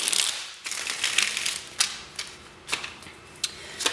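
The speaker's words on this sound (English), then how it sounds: "One more shuffle for pile number 2." Tarot cards shuffled for a pick-a-card reading, giving a dense riffling rustle at the start, then a series of sharp crisp flicks and taps spaced roughly every second, close and moderately loud with no talking.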